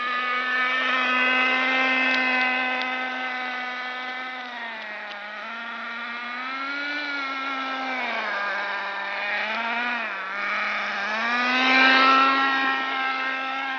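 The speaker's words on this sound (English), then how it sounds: "this is my new RC Wildfire. It's Nitro, and we've done all the running in procedures." A nitro RC car with a .15 glow engine and pull start runs close by. It gives a loud, buzzing high-pitched whine that rises and falls as the throttle is blipped, continuous with no talking.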